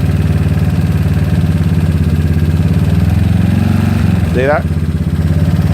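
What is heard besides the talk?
GY6 scooter engine revving as throttle is tugged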